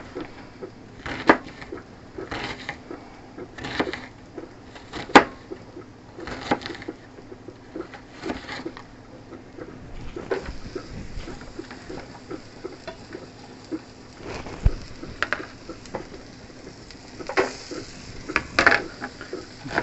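Knife mincing an onion finely on a cutting board: a series of sharp, irregular chopping taps, clustered and repeated, close and moderately loud over a faint background hum, with no talk.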